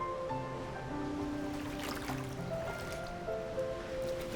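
Ocean waves roll at a beach in Bali, a steady broadband wash of surf that stays fairly even throughout, with no talking.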